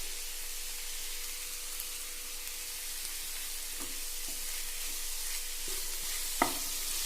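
Tomatoes and chicken masala fry in a pan for egg roast, a steady close sizzle with a few scraping stirs of a spoon throughout, no talking.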